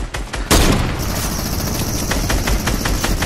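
Rapid bursts of gunfire from a mythical drum shotgun in a squad-based video game, with a sharp loud onset and then sustained, dense overlapping shots for about three seconds, with no talk.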